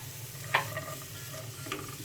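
Chopped capsicum goes into a frying pan in a chicken macaroni dish, giving a soft, steady sizzle with a sharp stirring scrape near the start and another clink later, no talking.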